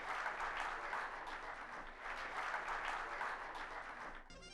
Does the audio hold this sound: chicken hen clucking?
no